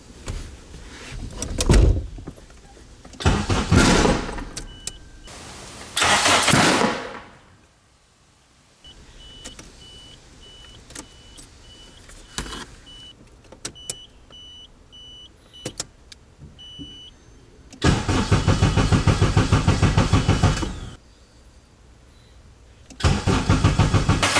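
A Nissan Cefiro with a swapped Honda K24 engine cranks loudly in several separate bursts on its first start attempt, with quieter clicks, a door and a whirring power-window motor in the gaps; no one speaks.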